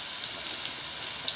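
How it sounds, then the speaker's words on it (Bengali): Potatoes frying in hot oil in a pan while a banana stem dish is prepared, a steady, soft, even crackling sizzle with no other sounds. "আলুগুলো একটু ভেজে নিচ্ছি।"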